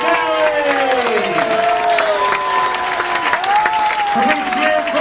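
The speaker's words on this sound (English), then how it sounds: "Would you please continue those wonderful applause for the incredible chefs of the Summit Valley?" A cruise ship audience applauds the chefs, dense steady clapping and crowd noise filling the room, with a voice calling out over it and occasional whoops and cheers rising above the clapping.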